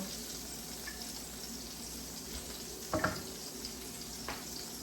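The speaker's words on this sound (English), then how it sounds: "drizzle of oil in the pan. Next, we're gonna add our onions because we need those to cook down." Onions frying in a drizzle of oil in a pan give off a faint, steady sizzle throughout, with a few soft clinks of a utensil near the middle.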